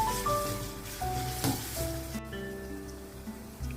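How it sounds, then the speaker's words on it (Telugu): Ginger garlic paste sizzles in a pan as it fries for a spicy brinjal curry, a steady close hiss with a faint tonal hum in the background and no talking. "ఒక టేబుల్ స్పూను అల్లం వెల్లుల్లి పేస్ట్ వేద్దాం అది కూడా వేసి బాగా ఫ్రై చేసుకుందాం"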